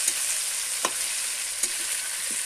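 Thin chicken pieces frying in a pan give a continuous, close, hissing sizzle, broken by a few soft stirring knocks.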